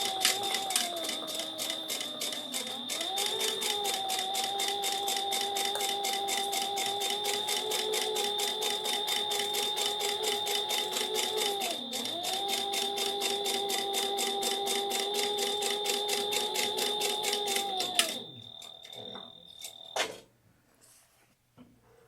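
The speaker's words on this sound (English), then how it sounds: "lining up that bottom edge, clip it in place, and sew according to the seam allowance." A sewing machine runs a long, continuous seam on a yarn project bag, its fast even needle hum holding steady with two brief dips in speed before it stops, leaving faint handling noise.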